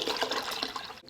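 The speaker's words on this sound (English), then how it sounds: "We will need to add a gallon of water for the entire packet." Water poured from a half-gallon container into a bag of art paste powder, a short, close, splashing gush that cuts off abruptly at the end.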